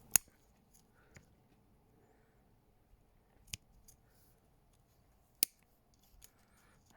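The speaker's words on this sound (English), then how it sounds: "cut that branch off in a second once I get my snips" Pruning snips cut Ilex nursery branches being shaped for bonsai, giving a few sharp, isolated snaps spaced seconds apart against near silence.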